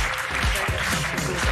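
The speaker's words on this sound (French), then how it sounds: "Applaudissements pour lui." A television studio audience claps steadily for Gérald Darmanin, with dense applause and faint voices underneath throughout the short burst.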